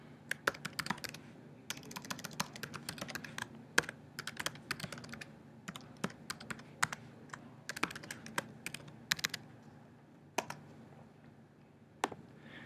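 Rapid, irregular clicking of a computer keyboard as a username is typed for a login, steady bursts of keystrokes close and fairly quiet with brief pauses, no voices.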